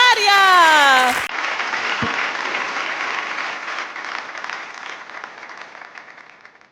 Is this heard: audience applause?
yes